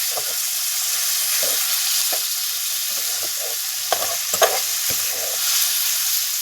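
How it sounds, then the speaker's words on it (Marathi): Spices crackle and sizzle in hot oil as tempering for a spicy bombil (Bombay duck) masala, a continuous fry with sharper pops and stirring scrapes scattered over it, close and fairly loud. "खमंग फोडणी"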